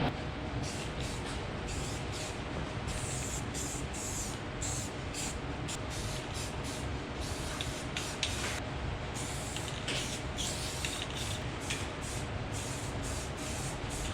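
Steady hiss of spray paint laying clear coat onto a roll bar, continuous and moderately quiet with slight fluctuations throughout.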